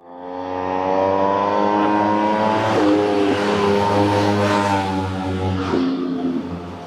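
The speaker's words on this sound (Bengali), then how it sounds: "রাতের এই নিস্তব্ধতা খান খান করে দিচ্ছে দ্রুতগামী বাইক আরোহীদের বাইকের শব্দ" A loud motorbike engine drone swells as it speeds by at night in Bali, its pitch rising and holding steady, close and continuous with no talk.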